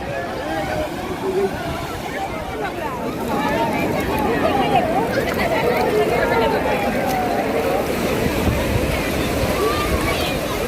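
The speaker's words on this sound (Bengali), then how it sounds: "আর এইমাত্র আবার জোয়ার এসছে" Sea surf of an incoming tide washing onto the beach at Puri, a steady broad roar of breaking waves with wind, swelling slightly louder midway, with crowd babble and voices in the background.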